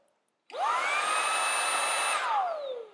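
A Xiaomi Mi Handheld Vacuum Cleaner 1C in turbo mode revs up to a loud, high-pitched whir, sustains it steadily, then spins down with a falling tone. It is heard up close.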